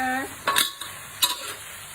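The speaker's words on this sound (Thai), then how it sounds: "ผัดมาม่าแบบพัววิไลจ้า คลุกข้าวเส้นจ้า" Mama instant noodles stir-fried with rice noodles in a pan at home: metal utensils scrape and clatter against the pan in a few close, quick strokes, with a soft sizzle underneath and no talking.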